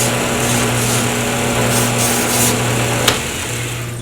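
Sandpaper working a spinning wooden pen blank on a woodturning lathe, a steady, loud motor whine with a constant hum and rushing friction noise throughout, one brief sharp tick near the end.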